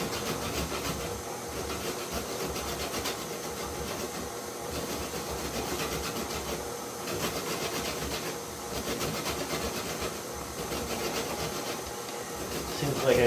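Fresh lemon zested over a grater, a steady run of scraping, rasping strokes that keeps up close by for the whole stretch, with no talking.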